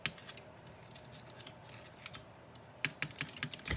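Small snips cut paper for card making in a quiet series of short, crisp clicks and snaps, with a few sharper cuts clustered near the end, heard close and alone.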